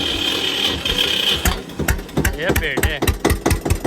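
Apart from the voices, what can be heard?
1996 model tractor engine running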